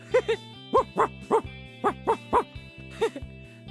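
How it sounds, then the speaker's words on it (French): A very large dog barks repeatedly in short paired and single woofs, fairly close, with a low steady hum underneath. "Ici, il y a, je dirais, un très gros chien."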